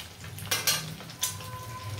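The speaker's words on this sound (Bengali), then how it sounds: "তো আমি ডিমগুলোকে ভুজি করার জন্য ফাটিয়ে আমি তেলের মধ্যে দিয়ে দিয়েছি" Cracked eggs frying in hot oil in a pan for scrambled eggs, a steady soft sizzle with a few sharp clinks of a utensil against the pan.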